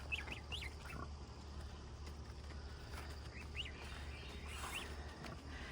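Goslings peep faintly in a quiet garden, their short high calls coming in small scattered bursts over a steady low background hum.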